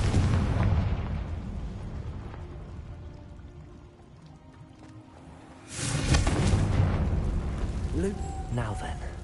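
Confringo explosive spell blast in the video game Hogwarts Legacy: after a quieter stretch of game ambience, a sudden loud, wide burst erupts midway and leaves a rumbling, crackling tail.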